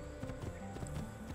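Horse hooves galloping in the Assassin's Creed II video game, a steady rapid clip-clop rhythm that continues evenly throughout at moderate, fairly close level with no talk.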